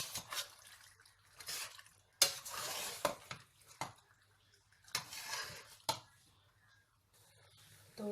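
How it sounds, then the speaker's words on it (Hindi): Boiled noodles tossed with oil and salt in a metal pot, giving a series of irregular scraping, clinking stirs close by, with short pauses between strokes. "तो इनको मैं अच्छी तरह मिक्स करूँगी।"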